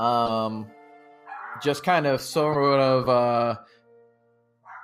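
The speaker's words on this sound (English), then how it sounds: "I don't know if you hear my dog barking or not" A pet dog barks and yips in loud, high, tonal bursts close by, partly overlapping a voice in a home podcast setting.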